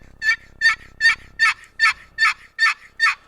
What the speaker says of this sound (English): you had to use your hands to make a turkey sound.